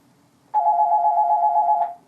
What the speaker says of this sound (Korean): 이 전화는 저에게 오는 것이 아니고 사무실로 오는 전화인데 집무실에도 같이 올리게 되어 있습니다